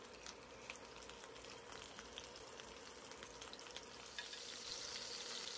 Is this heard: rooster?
no